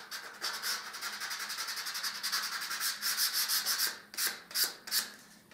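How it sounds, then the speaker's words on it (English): Sandpaper worked by hand across stained interior woodwork after a single coat of stain, a steady rhythmic back-and-forth rasp that is close and clear, with the strokes slowing and growing more spaced toward the end, and no voices. "I'll just give 1/2 of this a light sand, because again this has only had 1 coat of the stain"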